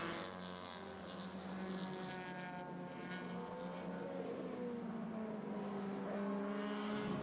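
A 1967 Alfa Romeo saloon car races around Laguna Seca in a one-hour endurance event, its engine a faint, steady distant drone with harmonic whine that holds throughout, heard alone without talk.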